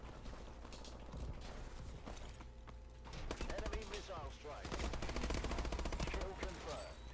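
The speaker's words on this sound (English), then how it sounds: "Oh, it's a turret." Rapid turret gunfire in Call of Duty Advanced Warfare, a hardcore Kill Confirmed match: dense, sustained bursts of automatic shots, loud and close, with players talking over the fire.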